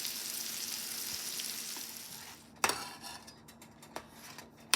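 Pork chops fry in shortening in a pan with a steady, fairly faint sizzle that drops away partway through, followed by a few sharp clanks of a utensil against the pan.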